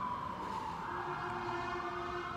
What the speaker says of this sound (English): See, like, hit the siren,